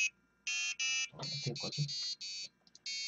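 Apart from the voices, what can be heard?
Arduino buzzer sounding on a ramen timer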